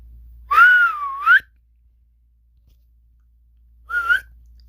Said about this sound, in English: before whistling.